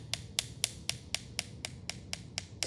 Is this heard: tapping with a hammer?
yes